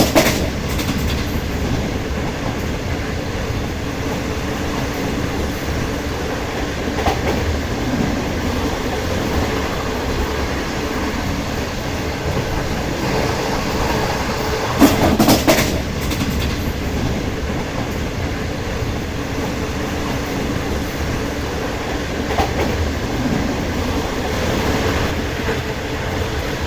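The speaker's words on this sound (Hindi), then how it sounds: "बहुत ज़बरदस्त जा रही है भाई ट्रेन, बेहतरीन।" Pak Business Express train running from Lahore to Karachi: a continuous rumble heard from inside the moving train, with steady wheel clatter and a brief louder rattle midway, without voices.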